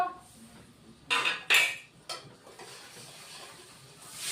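Ground cumin, coriander, ginger paste and red chili powder are stirred in a pan for a fish curry, giving a quiet sizzle broken by a few loud spatula scrapes and clatters near the middle, close by.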